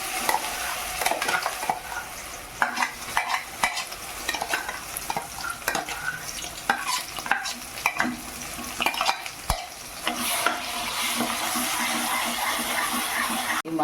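Ground masala paste, with cloves and cardamom, fries and gets stirred in a pan for a dhaba-style egg masala curry. A steady close sizzle runs throughout under frequent scraping and clinking spoon strokes against the pan.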